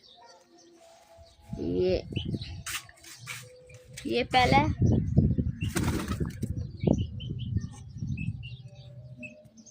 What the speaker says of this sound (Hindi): तो मैं आपको अभी कबूतर दिखाता हूँ।